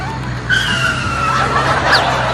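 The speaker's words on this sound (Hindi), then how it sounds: "अरे नया बाबू, तू ये बुलडोजर कैसे चला रहा है? मुझे चक्कर आ रहा है। ऐसा मत चला" A cartoon bulldozer driven crookedly, heard as a loud close skidding, squealing screech with rising and falling tones over a steady low rumble.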